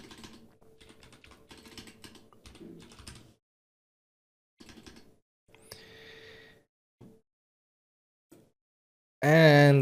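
Code is typed on a computer keyboard in short bursts of rapid close key clicks separated by pauses, followed by a brief loud unrelated sound at the end.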